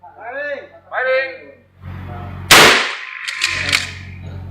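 A single sharp gunshot cracks loudly at a pistol and shotgun shooting practice range, its echo trailing off into a few faint clicks, after a voice gives instructions.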